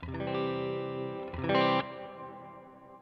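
A sustained, thick instrumental chord swells under a big mono Dynamic Hall reverb effect from Line 6 Helix 3.1, with a brighter accent midway and a long, spacious decay trailing off.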